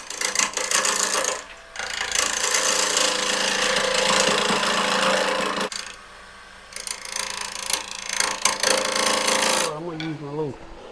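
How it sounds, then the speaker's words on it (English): A 3/8 inch bowl gouge cuts cherry burl on a wood lathe spinning near 800 RPM, giving loud rough chattering bursts broken by short pauses, with the tool catching and releasing near the end. "So I'm going to use a 3/8 inch bowl gouge. You're turning about 800 RPMs."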